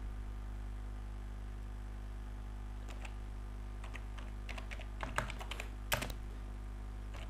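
Typing on a computer keyboard during work on an Access database application, a few soft scattered keystrokes and then several sharper clustered clicks near the end, all over a steady loud mains hum.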